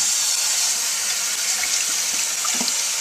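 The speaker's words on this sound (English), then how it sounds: "we're going to run them under cold water so that they can reduce the temperature faster" Cold water runs steadily from a kitchen tap over cooked beets in a sink, a continuous close hiss with a few light splashes toward the end.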